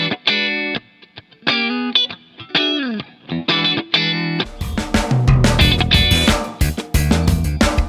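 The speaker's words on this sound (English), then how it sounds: "So let's start with adding 2 chord stabs on the first and second partial of the triplet." Funk guitar chord stabs land on triplet partials: short, clipped chords first ring out alone with gaps between them, then continue over a full drum groove, staying crisp and rhythmic.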